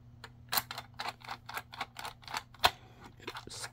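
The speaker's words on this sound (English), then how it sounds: "And get that screw back in." Small clicks and ticks from a screw being driven back into a Dell Inspiron One 2330 all-in-one computer, a quick irregular series of sharp, close taps over a low steady hum.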